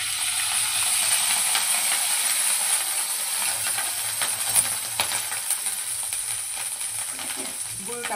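Ghee hits a hot kadhai with a loud, steady hiss and sizzle, a continuous bright frying noise that holds for several seconds without letting up.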